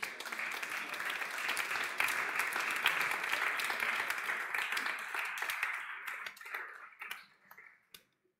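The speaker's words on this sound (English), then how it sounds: "Applause." Audience applause at a student challenge pitch and closing ceremony, a dense steady clatter of many hands that thins out and dies away over the last two seconds.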